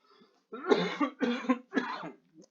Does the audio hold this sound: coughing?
yes